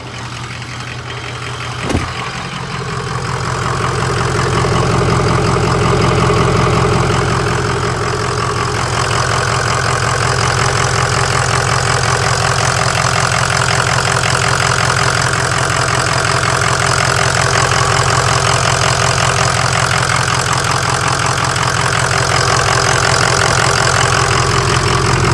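A Ford 6.0 Powerstroke diesel engine idles with new pipes after a throttle body removal, giving a steady, loud, low rumbling hum that holds evenly for the whole stretch after a brief click near the start.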